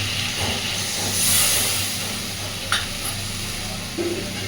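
Water poured into a pan of sizzling spiced potatoes, a loud continuous hiss and sizzle that swells briefly as steam bursts up, with a couple of utensil knocks.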